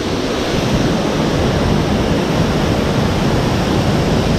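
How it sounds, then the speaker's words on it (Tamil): A waterfall roars in a loud, continuous rush of water, dense and unbroken throughout, with no voices. "அருவி சத்தத்தில் ரொம்ப அமைதியாக இருக்குது"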